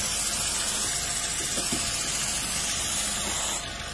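A continuous hissing spray of product is aimed at the accessory belts of a running Suzuki Swift engine. It stays loud and steady for several seconds, then drops off abruptly near the end.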